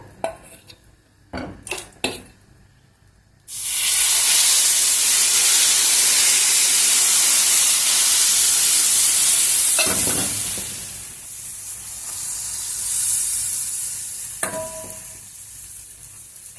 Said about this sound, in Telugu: ఇప్పుడు దోశ వేస్తాను చూడండి